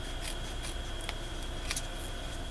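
Scissors snip through card scraps in a few separate crisp cuts, close and fairly quiet, with soft rubbing of paper between them.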